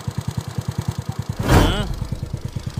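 A Smash 115 motorcycle engine, freshly repaired with new bearings and connecting rod, idles steadily with an even, close putter, briefly swelling as it is revved once before settling back to a smooth idle.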